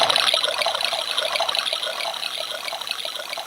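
Liquor splashes steadily into a glass, a close, continuous bright trickling pour with no voices over it.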